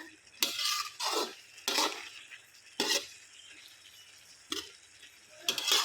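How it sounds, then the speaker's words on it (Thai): Garlic chives stir-fried in a pan give bursts of sizzling hiss, each starting as a spatula stroke turns the greens. Six or so strokes come at an uneven, unhurried pace, close by, with quiet pauses between. "มันก็จะผัดไปสักพักหนึ่งนะคะ"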